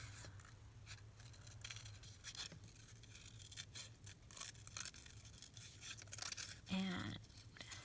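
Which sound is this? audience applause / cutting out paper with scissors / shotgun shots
cutting out paper with scissors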